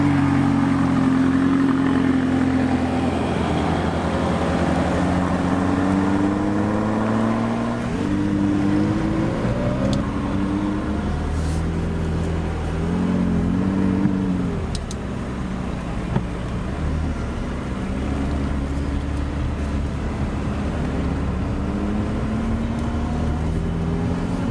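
A purple McLaren 570 GT drives on an open road, its engine droning loudly and continuously, with rising and falling tones as it revs through gears, steady cabin rumble underneath throughout.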